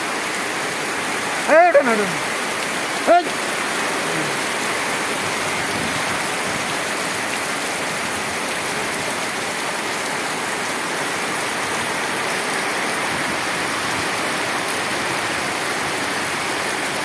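Steady rain pours down outside an opened door near a pigeon loft, a dense even hiss lasting throughout, with two brief sharper sounds early on.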